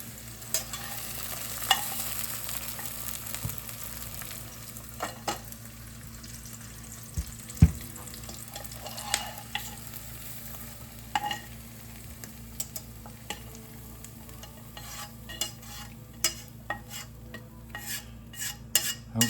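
Sirloin NY strip steak sizzles with onions in a pan at a low, steady hiss, broken by scattered clicks and scrapes of stirring and utensils, with no talking.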